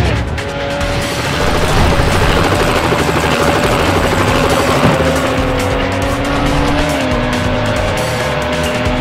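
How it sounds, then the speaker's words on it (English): In the Need for Speed Hot Pursuit 2 video game, a police helicopter's engine drones over roaring race cars and tire squeals, loud and continuous throughout. "The helicopter is in."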